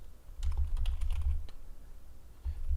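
Quick bursts of key presses on a computer keyboard, close and fairly quiet, clustered in a short flurry with a pause and a few more strokes at the end.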